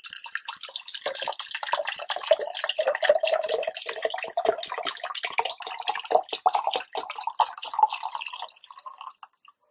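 Hot water pours from a half-liter bottle into a container of about half a liter, a continuous trickling, splashing stream up close that fades out at the end.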